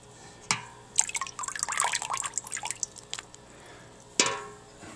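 A can of water chestnuts drops into water with a short splash and sinks, followed by a stretch of bubbling, gurgling burbles and then a second brief splash, fairly close and clear with no talk.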